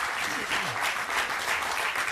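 Studio audience of a TV game show applauds a new contestant, a sustained, dense round of clapping at close range, even in level, with a voice faintly underneath.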